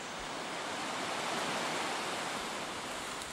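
Mackenzie Falls, a waterfall in southern Australia, gives a steady broadband rushing roar of falling water that stays even and unbroken throughout, with no voices.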